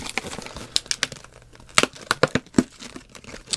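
Pokémon Forbidden Light card packs are taken out and shuffled together, with irregular crinkling foil, rustles and sharp crackles close to the microphone and no talking.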